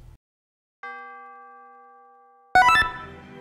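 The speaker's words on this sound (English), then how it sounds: "I also added a tubular bell hit for the beginning." A tubular bell hit rings out in an orchestral video game music arrangement of a piece from Kingdom Hearts, a single clear metallic strike with a long decaying tone, followed by a loud burst of fuller music.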